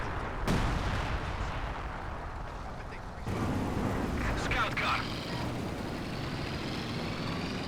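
Artillery fire in a Company of Heroes 2 match on the Lienne Forest map, a couple of deep booming blasts within rumbling battle noise, with a voice speaking over it.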